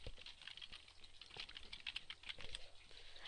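Quiet, rapid typing on a computer keyboard, a steady patter of light key clicks close by with no talking.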